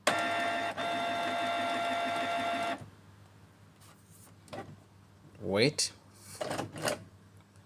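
A Canon G-series inkjet printer (G3420/G3020/G2020 class) runs its startup cycle after being switched back on, a steady mechanical whir and hum for a few seconds that then stops, followed by brief speech.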